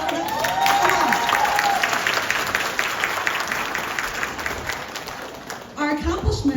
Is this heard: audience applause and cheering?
yes